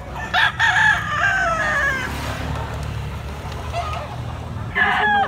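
Roosters crow at a gamefowl market in Carbon, Cebu, with several loud crows near and mid-distance over a murmur of crowd noise and background talk.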